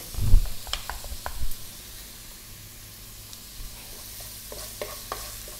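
Ginger and garlic sautéing in a pan for a Filipino sardine and misua dish, a soft sizzle broken by a few sharp spoon scrapes and knocks near the start and again toward the end.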